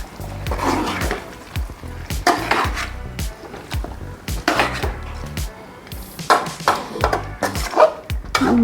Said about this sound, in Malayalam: ഇതൊന്ന് ഇളക്കി നമുക്ക് അങ്ങ് ഓഫ് ചെയ്യാം